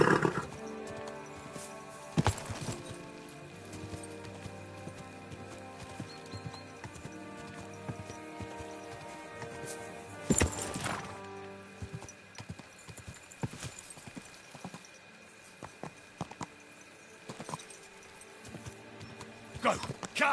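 Horse hooves clip-clop steadily in the video game Kingdom Come Deliverance 2, with a few loud sudden bursts and a player talking over the sound.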